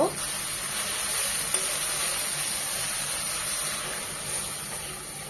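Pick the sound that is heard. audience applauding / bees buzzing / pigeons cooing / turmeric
turmeric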